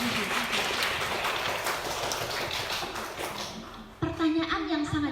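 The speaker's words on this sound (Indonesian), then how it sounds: "Tepuk tangan dulu untuk Razik Hanan Hamidi." Audience applause at a PKK community outreach competition in Nanga Pinoh, Melawi, a steady spread of clapping for about four seconds that fades out before a voice begins speaking.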